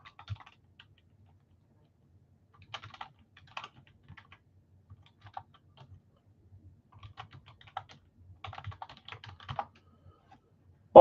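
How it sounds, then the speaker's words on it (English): Sporadic, soft keystrokes on a computer keyboard in a quiet room, in irregular bursts with pauses, ending in one sharp louder click. "Let me start typing these up."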